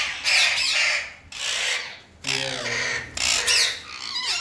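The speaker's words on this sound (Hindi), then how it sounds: "एक तोते को पकड़ा जिनको हमने सेपरेट करना है" A pet parrot in a home bird setup gives harsh, rasping squawks in several loud bursts as it is caught by hand, with rustling and scraping between the calls.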